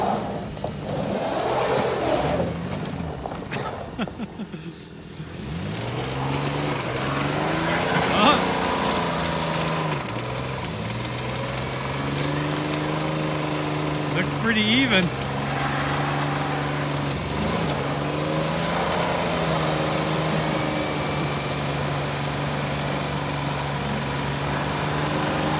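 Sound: Jeep engines revving during tug of war

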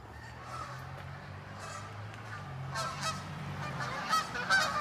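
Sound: geese honking

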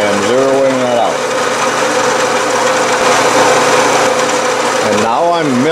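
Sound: milling machine cutting an angle on a lathe tool

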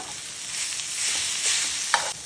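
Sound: food sizzling as it heats on griddle

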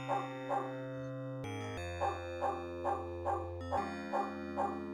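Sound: dog barking, from video game Call of Cthulhu: Shadow of the Comet

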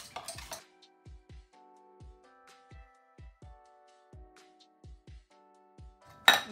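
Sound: whisking egg yolks and sugar together

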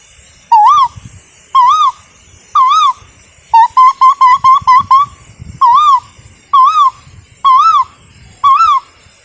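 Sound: human imitating a cuckoo call

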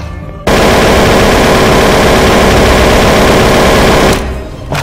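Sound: machine gun fire in the video game SCP Breach

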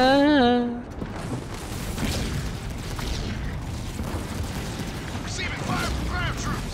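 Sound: gunfire from ground troops in Halo Wars 2 video game

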